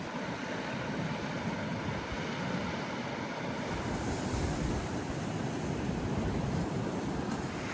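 Ocean waves on the Oregon coast roll and wash continuously, a broad steady roar of surf mixed with buffeting wind against the microphone, and no voices.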